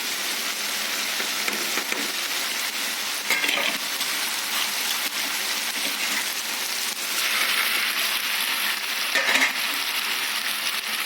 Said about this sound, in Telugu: మనం ముందుగా ఉడకబెట్టుకున్న మాక్రోని పాస్తాను వేసుకున్నాము